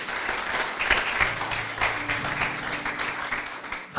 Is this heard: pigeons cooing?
no